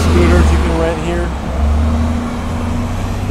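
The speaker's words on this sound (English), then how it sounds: "That loud bus passed by." A loud bus rumbles past close by on a street at a Madeira Beach, Florida waterfront village, its low engine drone dominating while a person talks over it.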